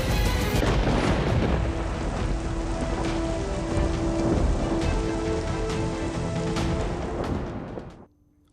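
Heavy, steady downpour in the rain-soaked hills of Uttar Pradesh and Uttarakhand, a dense continuous roar with scattered heavier drops, loud throughout before cutting off abruptly near the end.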